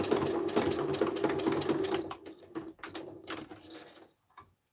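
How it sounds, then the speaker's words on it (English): A sewing machine stitches lines of sequins onto fabric in a fast, close mechanical whir. After about two seconds it slows into short bursts of stitching, then stops. "I'm just stitching my lines of sequins on"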